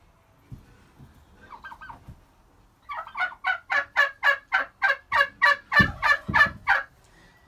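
Rescued turkeys gobble loudly and close by, a few soft calls first and then a long run of about fourteen rapid, rhythmic gobbles from one bird.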